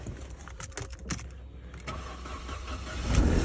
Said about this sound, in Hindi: ले यार ये भी माशाल्लाह हमारी गाड़ी हो गई है स्टार्ट